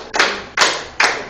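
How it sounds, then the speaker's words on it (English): A school class clapping hands together, three sharp, evenly spaced group claps close by and fairly loud, with nobody talking. "give yourself 5 claps"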